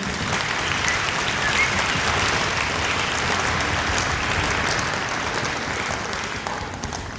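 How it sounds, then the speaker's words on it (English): An audience at a school orchestra concert claps steadily for students' festival ratings, a dense even wash of applause lasting several seconds and fading gently at the end. "Let's give them a round of applause for that accomplishment."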